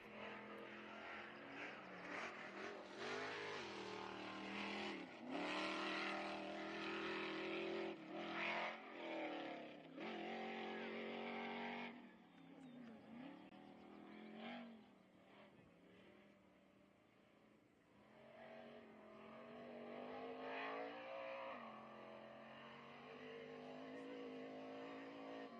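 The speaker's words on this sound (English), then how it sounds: "Cody Addington, the number 888, is out on race course." Off-road race cars roar along a rough desert course with canyons and cross-grain terrain, engines revving and surging continuously at a distance, rising and fading as they pass.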